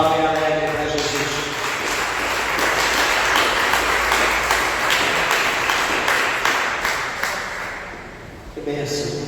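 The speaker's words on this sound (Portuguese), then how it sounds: "dê uma salva de palmas bem alegre para Jesus" Church congregation applauding for Jesus, a loud sustained wave of clapping from many people, fading toward the end as a voice begins speaking.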